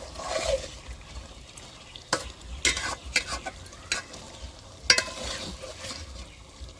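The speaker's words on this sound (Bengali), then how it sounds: "আলুটা দিয়ে দিচ্ছে মাংসর মধ্যে দিয়ে ভালো করে মাংসর সাথে নাড়া দিয়ে নেবে" Chicken and potatoes are stirred in a pot over a low sizzle, with several distinct scraping knocks of a spoon against the metal scattered irregularly through the stirring.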